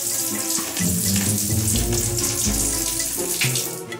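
Shower water runs steadily in a hotel bathroom, a continuous close hiss of spray with no talk over it.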